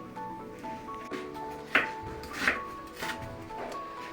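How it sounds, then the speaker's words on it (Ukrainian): A knife chops an onion on a cutting board in a few separate strikes with pauses between, close and fairly crisp over a steady low kitchen hum. "Тим часом наріжу цибулю"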